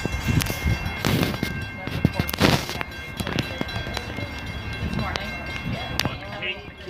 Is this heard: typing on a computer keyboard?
no